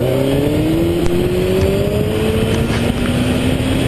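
A sport motorcycle engine revs loudly and steadily for a wheelie, its pitch rising smoothly for a few seconds over constant wind and road roar, with no voices.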